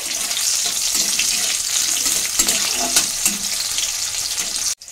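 Bay leaf, dried chilies, fresh chilies and whole garam masala fry in hot oil with a steady, close, dense sizzle and crackle that runs throughout, without any talking, then cuts off abruptly at the end.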